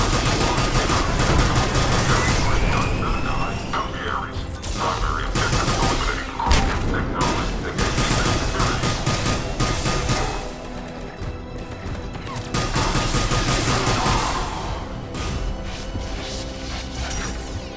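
Sustained gunfire and clattering impacts in a Mass Effect 3 battle against Cerberus forces, loud dense bursts with brief lulls, and a voice speaking over the combat at times.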